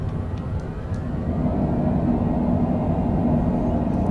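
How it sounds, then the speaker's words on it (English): Thrust reverser roar from a small aircraft during landing rollout at Hagerstown, a steady loud broadband rush over low engine rumble that builds slightly and holds throughout. "Spoilers are up. Reverser's on."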